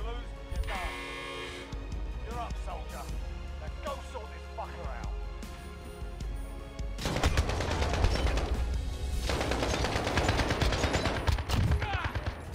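Rapid bursts of AK rifle fire in a video game, dense and loud in the second half, with scattered shots and a talking voice earlier.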